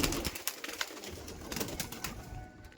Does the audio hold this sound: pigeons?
yes